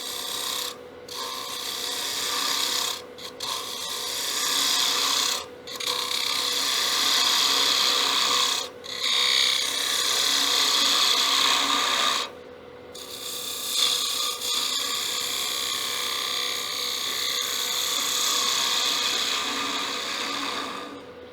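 A spindle gouge cuts a wooden box spinning on a woodturning lathe, giving a steady scraping, rasping drone with several brief pauses where the tool lifts off the wood.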